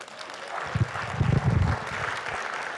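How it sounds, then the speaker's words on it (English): An audience at a transfer student ambassadors panel gives a round of applause, a moderate burst of clapping that swells in the middle and carries on fairly evenly to the end. "We can give her a round of applause."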